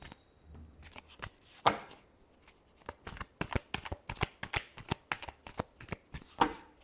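A deck of tarot cards shuffled close by, with a quick run of crisp riffling flicks and slaps in an uneven rhythm, quiet overall, with no voices.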